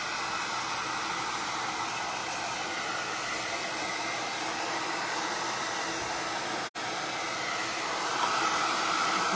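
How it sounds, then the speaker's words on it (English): A hair dryer blows steadily and close for several seconds, drying glue on a recycled craft project, with one brief cut-out partway through. "So I'm just gonna put this dryer on it"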